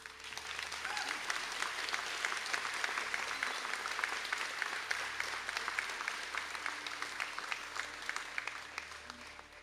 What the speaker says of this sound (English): I ask all graduates of fine arts to stand up for a round of applause